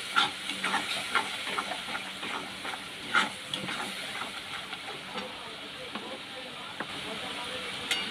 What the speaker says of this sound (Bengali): আমি এটাকে ভেজে নিচ্ছি